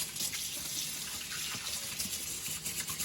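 Kitchen tap water runs steadily into a sink while buttery hands are washed under it, a soft continuous splashing with small irregular surges, fairly quiet and close.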